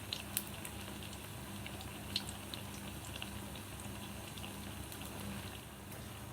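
Bread pakora frying in hot oil, a steady, quiet bubbling sizzle that runs without a break, dotted with a few small crackling pops.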